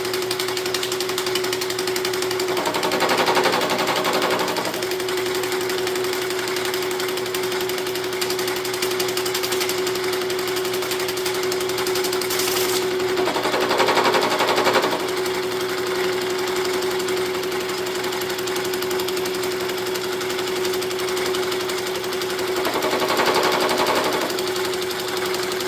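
A Bridgeport milling machine surfacing flat parts with a fly cutter, a steady loud mechanical hum and whir with a constant tone, swelling into a harsher, rattling cutting burst each time the cutter passes, roughly every ten seconds.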